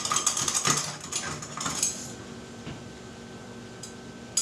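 Butter knife scraping and rattling inside a container to coax out stuck homemade chili powder from home-grown peppers, a busy close-up run of metallic scrapes and taps that fades to a few faint clicks.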